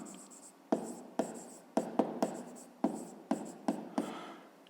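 Pen writing on paper during a fifth-grade math lesson, a series of close, distinct scratchy strokes in short bursts with pauses between them.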